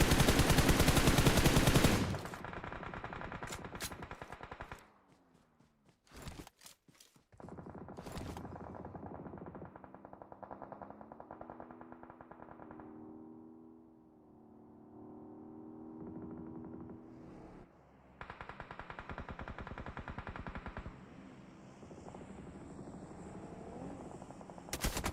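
Gunfire in the PUBG Mobile battle royale game, with bursts of rapid automatic shots and loud single cracks at intervals over droning engine-like game ambience, no talking.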